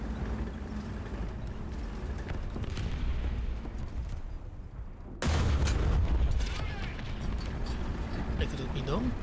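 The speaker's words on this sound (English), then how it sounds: "Artillery, fire." Artillery fire in the World War II shooter game Heroes & Generals booms and rumbles amid steady battlefield noise, with a sudden heavy blast hitting about halfway through, under occasional talk.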